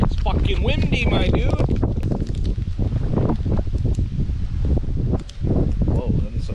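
Heavy wind buffets the microphone with loud low rumbling gusts throughout, while people talk underneath.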